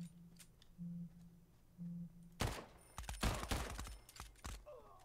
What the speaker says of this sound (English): that's a lot of gunfire